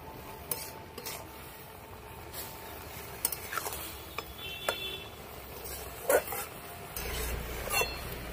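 Boiled cabbage with turmeric is stirred in a pan, with scattered clinks and scrapes of a utensil against metal over a faint sizzle, irregular and close, with a low rumble near the end.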